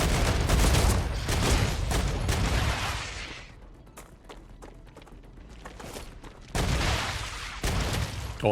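Gunfire in the video game Star Rupture: dense bursts of rapid shots at the start, a quieter stretch with scattered single shots and thuds, then heavy firing resumes loud and close, with no talk.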